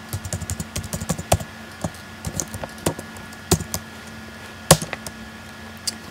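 Code is typed on a computer keyboard in irregular bursts of sharp, close key clicks separated by short pauses, with no voice heard.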